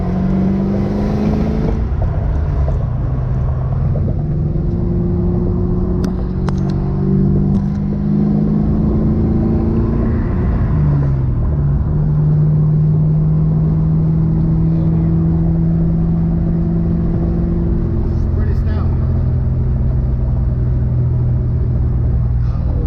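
A Ford SN95 SVT Mustang Cobra's engine hums steadily with rising and falling pitch as it cruises at speed on a freeway, loud and close, with a continuous rumble and no talking.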